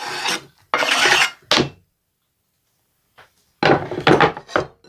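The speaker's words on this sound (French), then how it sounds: "Je mets tout ça dans mon saladier et je vais mélanger rapidement." Chopped beef and chopped coriander tossed quickly in a salad bowl for a Thai-style beef tartare, giving bursts of loud close rasping and rubbing scrapes separated by a silent pause.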